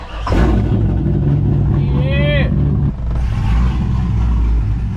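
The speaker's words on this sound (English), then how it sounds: "let's pull the Vette in" A C5 Corvette engine rumbles close by as the car is driven in, a loud steady low drone that dips briefly partway through, with a high whistling squeal in the middle.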